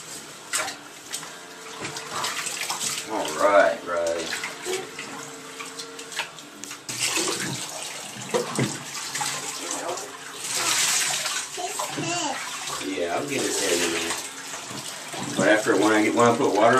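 Water runs from a tap into a bathtub while a dog is bathed, a steady splashing rush that rises and falls as the water is moved around, with people talking over it.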